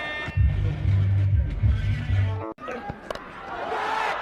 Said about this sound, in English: Crowd is anticipating some big shot.